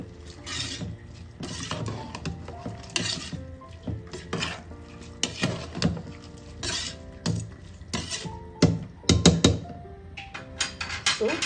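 Vegetable kurma being stirred in a pan with water and spices: a spoon repeatedly scrapes and clinks against the metal pan in an uneven, busy rhythm, close and loud, with a faint sizzle underneath.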